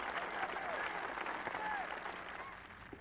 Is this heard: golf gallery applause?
yes